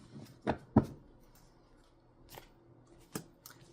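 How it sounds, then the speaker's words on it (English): Tarot cards are shuffled in a few quick, crisp riffling bursts, spaced apart by quiet gaps, close and fairly soft. "A lot of shuffling for Leo."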